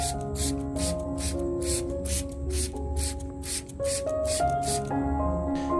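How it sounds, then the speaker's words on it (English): A handheld spray bottle mists an Anthurium plant's stems, leaves and growing medium in a rapid series of about a dozen short, even hissing bursts, close and fairly loud over a low hum. "I gently and evenly mist the entire Anthurium plant, including the stems, leaves, and the surface of the growing medium"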